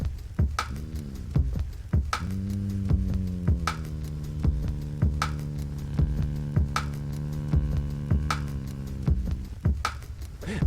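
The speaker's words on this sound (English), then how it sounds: "Reports have come in about the low hum it emits" A low, droning hum comes from a hole in the world, a steady layered tone with sharp rhythmic pulses repeating about every second and a half.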